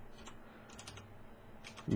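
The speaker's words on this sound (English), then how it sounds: "I gotta move my keyboard, Luke" A computer keyboard being shifted and typed on at a desk during a Minecraft survival session, with a few soft, scattered keystroke clicks, faint and close, and no talking.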